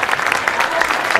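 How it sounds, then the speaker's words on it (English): A high school volleyball crowd at a regional match applauds and cheers at set point, a dense, steady wash of clapping with a commentator's voice faintly underneath. "Set point for the Saints. The crowd comes to life."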